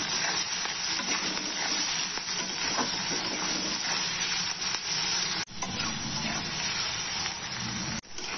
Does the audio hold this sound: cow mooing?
no